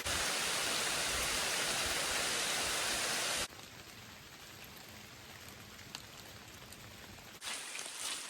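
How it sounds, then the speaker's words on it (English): Heavy rain hisses steadily on the Appalachian Trail as a loud, dense wash, then drops abruptly to a lighter, softer patter before swelling again at the end. "Well, it's still raining"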